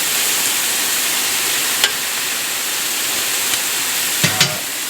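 Onions sizzle steadily on a hot griddle while smash burgers cook, a continuous loud hiss with a couple of brief clicks and scrapes near the end, no talking.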